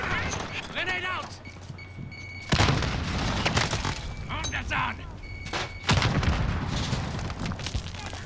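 A grenade explodes during a Call of Duty: Modern Warfare multiplayer domination match on Grazna Raid, two heavy booms rising out of distant gunfire while players talk over the battle.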